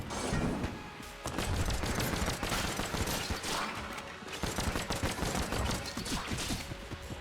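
Rapid, continuous gunfire from the video game Enter the Gungeon, with dense overlapping shots and impacts forming a steady busy barrage at moderate level with no voice.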